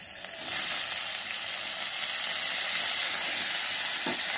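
Bitter gourd is tipped into a hot pan that already holds dried red chilli tempering. A steady, bright sizzle and hiss swells up after a brief quiet moment and continues evenly, with no talking.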